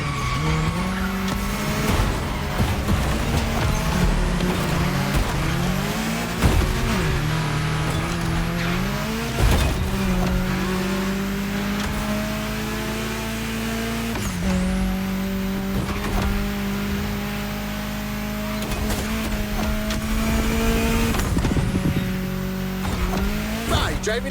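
Car cruising through a Hawaiian state capital in the racing game The Crew Motorfest, with a continuous engine drone that rises and falls through gear shifts, occasional tire squeal, and a voice narrating over it.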